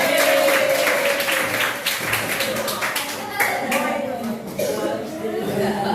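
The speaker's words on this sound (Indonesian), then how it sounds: "kasih tepuk tangan Kak Yoga" A crowd claps steadily for several seconds, dense and close, with chatter and light laughter mixed in.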